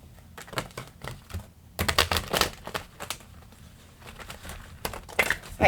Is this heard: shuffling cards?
yes